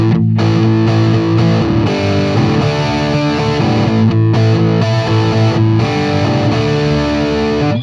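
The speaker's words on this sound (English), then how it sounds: "So now we're gonna put a little distortion, a little dirt on it." Paul Reed Smith Custom 24 electric guitar from 2008, played through distortion with no other effects: sustained, dense, overdriven chords and notes ringing continuously and loudly with no talking.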